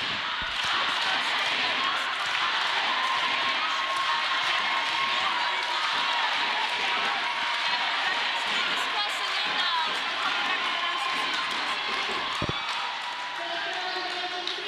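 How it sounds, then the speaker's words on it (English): Spectators at a roller derby match between Argentina and France roar and cheer for Argentina in a loud, continuous wash of crowd noise, with a commentator talking over it. "The crowd support for Argentina over here, absolutely brilliant."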